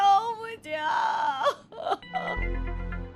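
A woman who has just fallen down the stairs cries and moans in pain, wavering wails and groans broken by gasps, close and fairly loud, ending as a low hum takes over.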